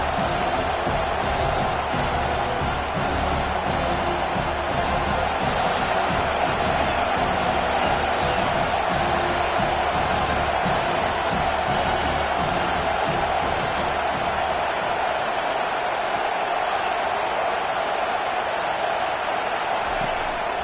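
A stadium crowd in the NCAA 25 college football video game roars as a steady, dense wall of cheering on a big third down, loud and continuous throughout.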